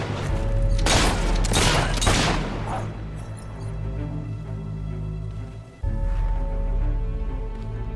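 Gunfire in the video game Fable 3: a rapid cluster of loud shots and crashes in the opening seconds, followed by a busy game soundscape with droning background music.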